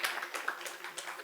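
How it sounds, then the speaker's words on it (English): A seminar audience applauds a panelist being introduced with a brief, fairly faint round of clapping. The separate hand claps come at an uneven rhythm and stay steady through the short clip, with a faint voice mixed in. "Please give her a huge round of applause."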